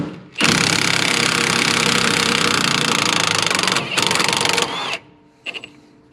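An impact wrench removes shock plate bolts on a Jeep Willys, firing in a long loud hammering burst, a short pause, a second burst, then a couple of brief rattling taps.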